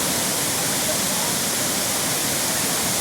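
Burney Falls in northern California roars as a steady, loud, unbroken rush of falling water that fills the whole scene with no pauses or changes.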